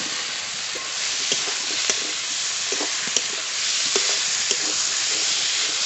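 Fried potatoes are stirred into spice paste cooked down in oil in a frying pan, giving a continuous close sizzle broken by light, irregular scraping clicks of the stirring spoon.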